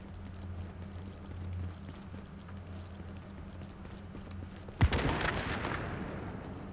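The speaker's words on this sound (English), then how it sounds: "So explosions going off can only mean that someone's in trouble." A single sharp explosion goes off in the video game Tom Clancy's The Division. A steady ambient rumble leads into it, and a long noisy roar trails away after the blast.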